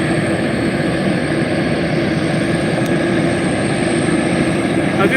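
A McDonnell Douglas MD-11 tri-jet airliner, with its third engine mounted on the tail, departing Reno: a loud, steady engine roar with broad rumble and a faint high whine, sustained at constant strength throughout.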